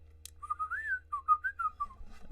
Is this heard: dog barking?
no